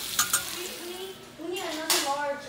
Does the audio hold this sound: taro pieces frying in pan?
yes